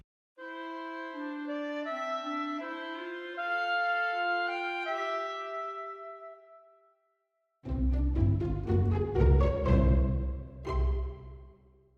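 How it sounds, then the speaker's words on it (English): Two clarinets play a sustained, interweaving melody with smooth overlapping lines for about seven seconds, then a brief silence before a denser, percussive passage with sharp attacks follows, with no talk. "And if I arrange that, for example, for 2 clarinets, it could sound like this."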